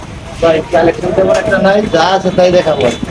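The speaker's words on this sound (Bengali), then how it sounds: "কবুতরকে খাবার দিতেছে তো দেখতেই পাচ্ছেন আপনারা" Pigeons coo repeatedly in soft, throaty rolling calls while being fed, close and fairly loud, in a series of pulsing phrases.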